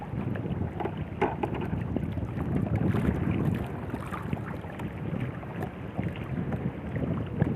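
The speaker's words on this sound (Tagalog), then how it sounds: "Medyo malakas na yung hangin kasi" Strong wind buffeting the microphone in a steady, roaring rush while fishing, with the faint slap of water beneath it.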